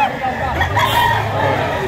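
Roosters crow and chickens cluck among people talking at a busy poultry market in Lipa, Batangas, the birds close and overlapping with the chatter of voices.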